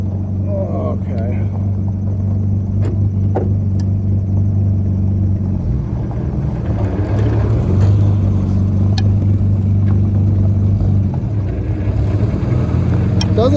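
An Austin Healey 3000 with failing brakes and a gearbox that pops out of first gear rumbles along with its engine running steadily, the low drone shifting slightly in pitch, while people talk over it.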